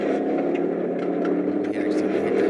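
A car engine revs high after being knocked into manual mode by accident, producing a strained, sustained roar that holds steady under people talking.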